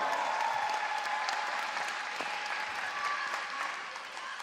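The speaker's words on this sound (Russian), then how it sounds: "Аплодисменты немногочисленной, но активной публики свидетельствуют о том, что выступает этот спортсмен за Казань" Audience applause in an arena at a Russian Grand Prix figure skating competition in Kazan: a small but energetic crowd clapping steadily and fairly loudly, fading slightly toward the end.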